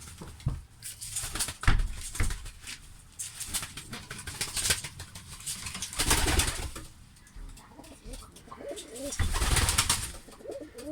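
Pigeons coo in soft, repeated bursts, with wing flutters and faint clattering around them, fairly close and fairly loud.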